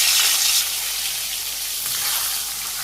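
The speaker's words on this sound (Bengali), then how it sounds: "কড়াই তেল গরম হয়ে গেছে আমি একটা একটা করে বেগুন ছেড়ে দিই" Spiced eggplant slices fry in hot oil in a wok, giving a close, steady broadband sizzle that is loudest in the first half second and then settles into a constant hiss.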